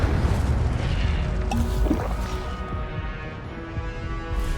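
Spell-casting effects from the Hogwarts Legacy video game, with an Incendio fire spell among them: a dense, loud wash of whooshing, crackling game sound with a brief sharp burst partway through, continuous for the whole stretch.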